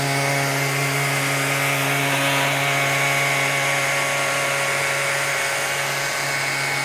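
A Festool RTSC cordless sander runs steadily with its dust extractor switched on alongside it, making a continuous, fairly loud mechanical whir and hum that holds at an even level throughout, with no talking.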